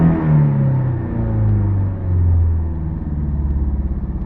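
A car engine with a cylinder misfire is floored from idle, its low rumble rising and falling in uneven surges before settling back to a high, pulsing idle, loud and close with no talk.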